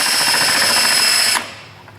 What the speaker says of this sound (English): I'm just using the edge of the unibit here.